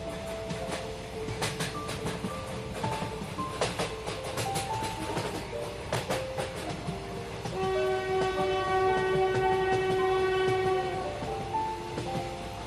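A train running on rails through countryside, its steady rolling clatter carrying on throughout, with a long sustained horn blast sounding midway and fading near the end.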